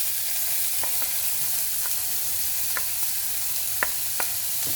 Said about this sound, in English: I'm going to add some onions.